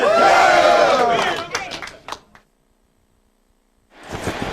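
A sellout Super Bowl XXXIV stadium crowd for the St. Louis Rams against the Buccaneers roars loudly, then fades to near silence before swelling again, with an announcer's voice over it.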